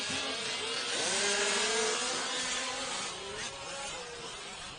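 High-pitched engines whine and buzz, rising and falling in pitch as small race cars speed by at a distance during a main event race, continuous and fairly loud.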